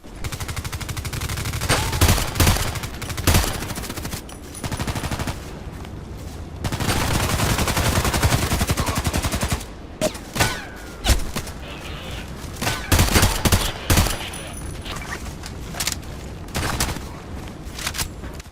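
AN-94 Abakan rifle fire in the video game Contract Wars, loud close bursts and rapid strings of shots separated by short gaps, with a few single cracks between volleys.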